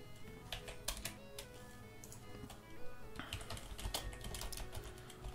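Rapid keystrokes on an American-layout computer keyboard, irregular clicking bursts over steady background music from a Roblox game.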